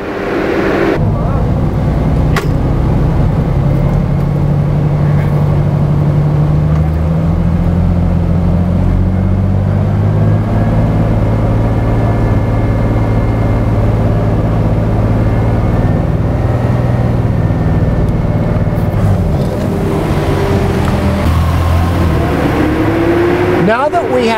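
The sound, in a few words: 2007 Ford Mustang engine revving under throttle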